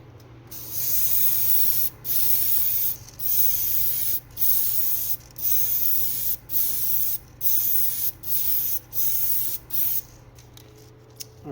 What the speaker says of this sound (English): we have a spoon here. We're going to spray this.